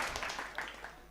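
An audience applauds at a Hindi comedy poetry show, a short stretch of scattered, fairly soft clapping.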